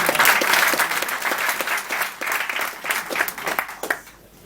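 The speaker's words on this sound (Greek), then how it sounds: "Ένα χειροκρότημα, παρακαλώ." A studio audience applauds loudly and steadily, a dense burst of many hands clapping at once that carries on for several seconds before fading out at the end.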